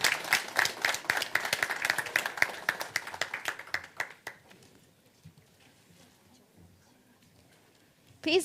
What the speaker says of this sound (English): Please a round of applause as they come up on stage